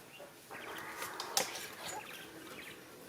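Four white quail in a pen give soft clucks and chirps, faint and close, with a brief sharp call in the middle and light scratchy rustling throughout.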